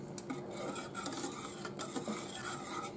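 Homemade eggnog kept at a low simmer in a pot is stirred steadily, a soft, continuous scraping and swishing of a utensil against the pot with small clinks, quiet and close.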